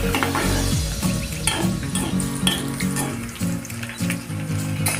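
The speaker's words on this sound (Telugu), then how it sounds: "తాలింపు గింజలు కూడా వేసుకుందాం. దోరగా ఫ్రై చేసుకుందాం." Tempering seeds and dried red chillies fry in oil in a pan for a homemade cabbage fry. A close, steady sizzle runs under repeated stirring scrapes, with a faint tonal hum and no speech.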